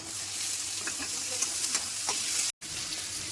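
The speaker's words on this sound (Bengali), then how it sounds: "এবার দিয়ে দেবো টমেটোগুলো।" Tomatoes going into onions frying in a pan, a steady close sizzle with faint stirring scrapes and light ticks, a sudden silent break, then the frying resumes.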